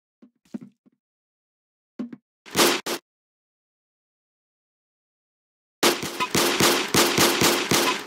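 Gunfire in a Roblox video game: a few isolated shots, then a long sustained burst of rapid automatic fire, loud and close, with no voices.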